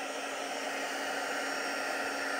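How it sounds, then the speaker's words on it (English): A noisy heat gun blows steadily and close up while drying paper for a junk journal craft, a constant airy roar with no pauses and no voices. "Yeah, I've got my noisier heat gun. It does it a lot quicker."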